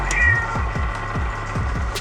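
A cat meows in a tense science-fiction horror film scene aboard a spaceship, a short plaintive cry over a low mechanical hum and repeated dull thuds.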